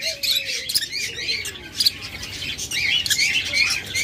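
Green and yellow opaline lovebirds in a cage chirp continuously nearby, a busy chatter of shrill, overlapping tweets and squeaks with a faint low hum underneath.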